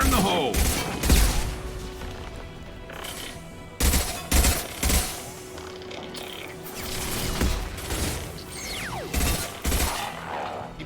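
Heavy gunfire in the video game Mass Effect 2: bursts of rapid automatic shots and sharp impacts, loud and close, recurring in clusters with mechanical clatter between them.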